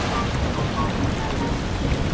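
Cartoon rain falls in a steady, even hiss as wild ducks are caught in a Bengali animated story, with a dense wash of noise and no talking.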